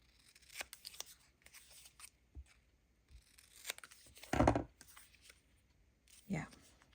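Paper being trimmed for a craft specimen slide book, scattered scissor snips and crisp rustling, close and fairly quiet, with a few louder crunchy cuts and bits of talk in between.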